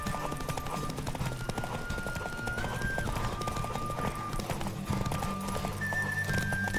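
A horse gallops in The Witcher 3: Wild Hunt, rapid rhythmic hoofbeats drumming steadily over a faint rush of wind and soft background music.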